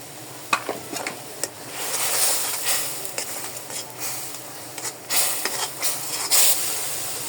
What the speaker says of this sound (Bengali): আমার ইয়েটা হচ্ছে মশলাটা হচ্ছে কষানো হয়ে গেছে